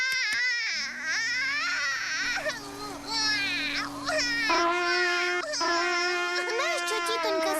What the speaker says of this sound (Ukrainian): Малюк Олександр прокинувся.